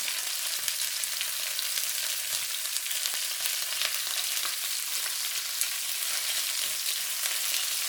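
Large shrimp sizzle steadily in a hot pan, a close, continuous bright frying hiss with small crackles and pops, no voices.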